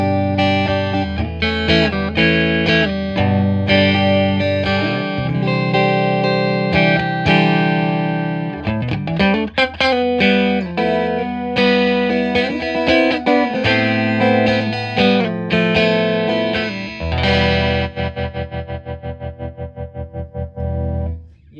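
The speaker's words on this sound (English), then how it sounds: "we're starting to get a little preamp distortion simulation, I suppose, with the Tone Master here" Electric guitar through a Fender Tone Master Deluxe Reverb amp fitted with a 25-watt speaker, driven into preamp distortion, plays loud chords and riffs continuously with reverb, ending on a ringing, decaying chord.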